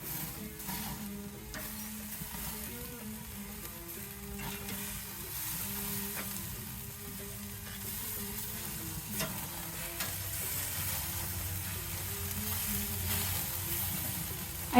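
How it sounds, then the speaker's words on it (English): Meat searing on a grill heated to about 450 degrees Fahrenheit, beef kofta and chicken shish tawook, giving a steady close sizzle and crackle that continues throughout with no talk. "Just listen to that searing sound."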